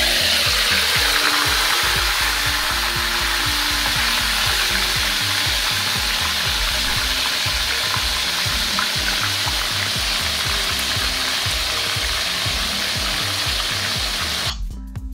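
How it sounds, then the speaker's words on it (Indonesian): Squid pieces fry in very hot oil, giving a loud, continuous, dense sizzle and crackle that holds steady throughout, with faint stirring or shifting sounds underneath. "Selanjutnya siapkan minyak sampai benar-benar panas, baru kita masukkan cumi."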